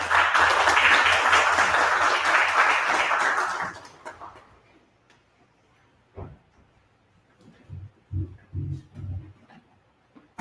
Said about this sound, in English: Let's give her a hand as she comes forward, ladies and gentlemen